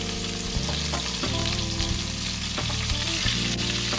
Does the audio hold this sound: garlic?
yes